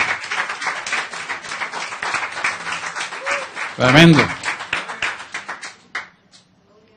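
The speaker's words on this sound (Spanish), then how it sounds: "dale un aplauso, Señor" A congregation at a church discipleship class on spiritual warfare claps in scattered bursts under a preacher's loud, continuous speech, with a brief louder swell midway before the sound drops away.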